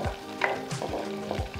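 Ginger and garlic fry for an ambarella curry in a village-style kitchen, a steady close sizzle broken by several quick scrapes of a spoon stirring the pan, with no voices.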